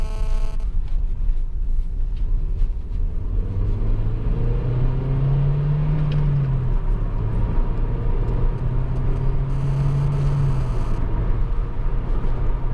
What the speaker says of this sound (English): Engine really sings beautifully. They always do these VTECs. It is a genuinely brilliant engine.